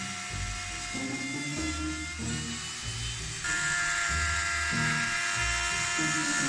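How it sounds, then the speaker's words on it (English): Router fitted with a flush trim bit cutting a wooden panel, a high-pitched motor whine with repeated dips and surges in pitch as the bit bites into the wood, heard fairly close with no talking. "the flush trim bit wasn't quite long enough to do the whole panel in one cut"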